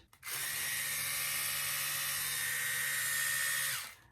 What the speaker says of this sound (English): So I've got my electric toothbrush.